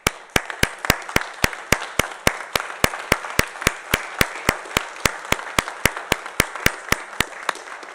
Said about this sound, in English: I'm going to stand up and clap for you